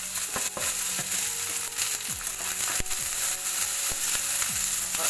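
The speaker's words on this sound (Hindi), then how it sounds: "अब हम इसमें डालेंगे कटा हुआ शिमला मिर्च और प्याज" Chopped capsicum and onion frying in olive oil in a kadai, a steady broadband sizzle with scattered crackles and a few light utensil knocks, close and fairly loud with no voices.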